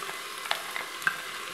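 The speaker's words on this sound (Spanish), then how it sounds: "lo dejamos que se sofría moviéndolo de vez en cuando" Chopped garlic and onion sauté in hot olive oil in a Fussioncook Touch Pro multicooker on its fry setting, giving a soft, quiet sizzle with a few light stirring taps.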